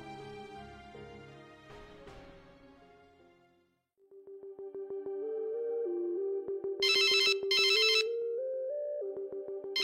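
A phone's ringtone plays loud and melodic after a short musical passage and a pause, with bright bursts of chiming layered in near the end, ringing for an incoming call at a dining table.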